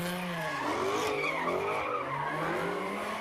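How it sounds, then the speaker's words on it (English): Dozens of cars do burnouts in a city intersection, with continuous loud tire squeal and skidding that wavers in pitch over engine roar. "dozens of cars did burnouts in this intersection behind me"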